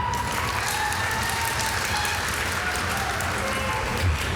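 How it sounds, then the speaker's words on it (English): A convention panel audience at Super Smash Con 2017 gives a steady, dense round of applause, loud and continuous throughout with faint voices mixed in. "round of applause for Callie"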